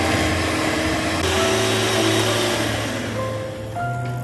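Electric mixer whirring steadily as it creams dairy cream mixed with a few drops of lemon juice for an eggless Basque cheesecake, its motor pitch shifting slightly near the end, close and alone.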